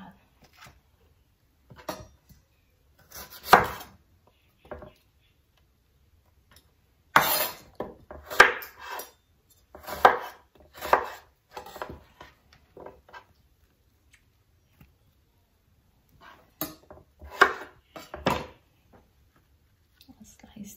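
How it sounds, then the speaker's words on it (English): Knife cutting eggplant on a board for Filipino fish pinangat, with short clustered crisp slicing strokes in bursts separated by pauses, close and moderately loud. "I slice the eggplant last"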